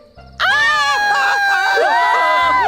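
A woman screams loudly and continuously at close range, piercing and sustained for about two seconds after a brief muffled lead-in, in a dubbed South Indian action film scene.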